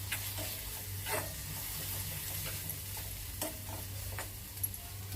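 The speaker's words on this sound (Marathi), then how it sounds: "एक मिनिटभर आपण परतून घ्यायचे मसाले" Spice paste with coriander is sautéed in a pan over low heat for stuffed pomfret, giving a faint steady sizzle with soft intermittent scrapes of a spatula.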